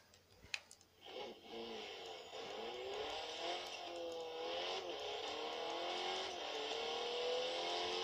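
Car engine from the Forza Horizon 3 video game, revving and accelerating steadily with rising and falling pitch as the car drives on, fairly loud and continuous with no talk.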